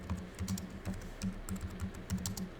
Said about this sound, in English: And type my message here.